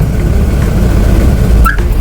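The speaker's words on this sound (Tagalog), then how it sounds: "Kapag papatayin natin yung sasakyan, pwede natin din patayin dito sa remote" A car engine idles with a steady low rumble, then a short electronic remote chirp sounds near the end as the engine is switched off remotely.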